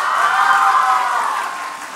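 Cheering supporters applaud the winner of a Vietnamese high-school quiz show qualifying round, a dense, steady wash of clapping that fades slightly toward the end, with no voices over it.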